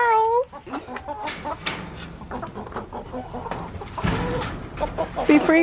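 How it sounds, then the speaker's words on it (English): Free-range backyard chickens in hot Savannah weather cluck and call in short bursts, with higher bird calls mixed in, close by and moderately loud throughout. "we've got 15 whole ass chickens out there in that sweltering Savannah heat"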